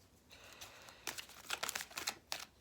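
Tarot cards are shuffled by hand at close range, giving soft papery riffles and crisp flicks that come in short bursts after a quiet start, fairly faint and with no talking.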